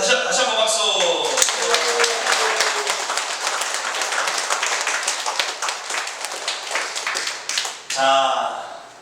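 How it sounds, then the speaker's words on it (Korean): Church congregation claps, uneven and fairly close, under a pastor's ongoing talk, the claps thinning toward the end before speech resumes alone. "그런 의미에서 다시 한번 박수."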